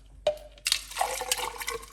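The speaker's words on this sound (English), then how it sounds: "I'm gonna put some water. Roughly about a cup of water into the blender." Water poured into a blender for beetroot juice: a short splash followed by a steady, close pouring stream that fills the jar.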